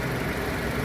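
A 2005 Nissan X-Trail T30 with a 2.5-litre four-cylinder engine, front-wheel drive and automatic gearbox, idles with a steady, even hum and no talk over it.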